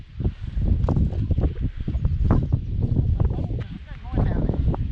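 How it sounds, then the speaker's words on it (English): Strong wind gusting in Canyon de Chelly near Antelope House, buffeting the microphone in loud, irregular rushes and rumbles while people talk over it. "Because the wind is really high."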